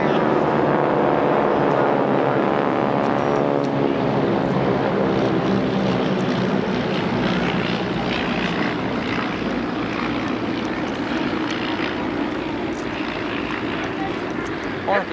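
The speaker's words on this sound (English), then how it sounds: "Now you're going to get a look at the trainer aircraft." A WWII-era propeller trainer aircraft, such as the Ryan PT-22, flies overhead at an airshow, with a droning engine and propeller buzz that rises and then fades. An announcer speaks over the public address.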